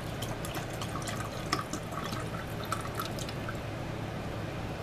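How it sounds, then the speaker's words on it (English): Chicken broth pouring into the pot of an electric Farberware pressure cooker, a steady trickling and dripping of liquid at close range with a low hum underneath and no talking. "I'm going to pour that chicken broth into there."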